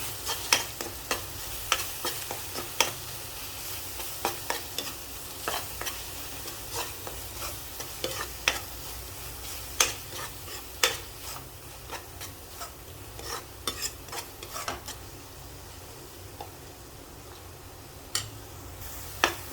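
Ground masala with garlic, ginger and coriander leaves sautéing in a pan for chapathi chivda, a steady soft sizzle broken by frequent sharp ladle taps and scrapes, close and continuous without speech.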